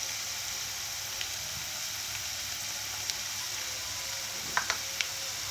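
Sliced onion fries in hot oil with a faint, steady sizzling hiss, broken by a few soft clicks and small pops near the end.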